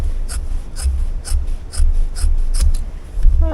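Scissors cutting white fabric for a baby quilt, heard as about ten crisp, evenly spaced snipping strokes close by over a low background rumble.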